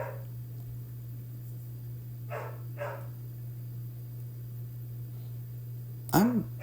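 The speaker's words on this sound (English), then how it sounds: "I'm sorry if you can hear my dog barking." A loud pet dog barking indoors, a few faint, distant barks spaced apart and ending in a sharper yelp-like bark, over a steady low electrical hum.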